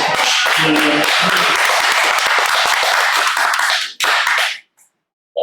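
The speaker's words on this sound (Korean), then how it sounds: "박수 한번" Dense, loud applause from a church gathering fills about four seconds, stops briefly, then returns in a short final burst before fading into near silence.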